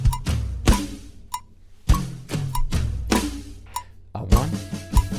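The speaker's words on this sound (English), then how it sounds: "we're going to go from the last 2 bars of the drum solo" Closing two bars of a rock drum solo from a School of Rock musical song, loud close snare and tom hits in rapid irregular bursts with cymbal crashes, played alone with no talk.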